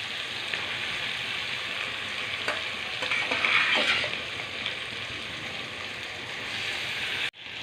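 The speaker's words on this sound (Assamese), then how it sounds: "এতিয়া এইখিনি তেলতে মই মাংস ইয়াত দি দিম।" Duck meat coated with onion, ginger, garlic, chilli and spices sizzles steadily in hot oil, a continuous crackling hiss with a few stirring scrapes midway, then cuts off abruptly near the end.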